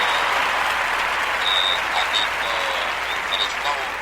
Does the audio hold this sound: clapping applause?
yes